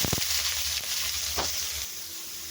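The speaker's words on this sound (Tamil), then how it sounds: "இப்போ இந்த வெங்காயம் வந்து ஓரளவுக்கு வதங்கி வரட்டுங்க" Steady sizzling and crackling of chopped onions frying in a hot pan, with a few sharper stirring scrapes and no talking.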